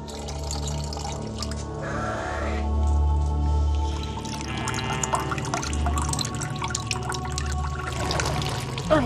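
Water poured from a container into a basin in a Palestinian household, a continuous splashing trickle with a steady low hum beneath, moderately loud throughout.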